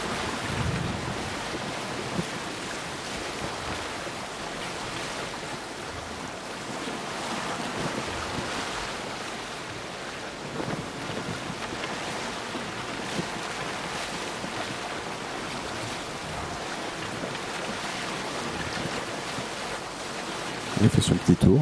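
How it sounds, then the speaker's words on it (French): A trireme sailing in a video game, with a steady wash of sea waves and wind that runs on continuously at a moderate level. "dans le jeu, vous pouvez prendre un bateau beaucoup plus grand, comme je vous dis, une trirème"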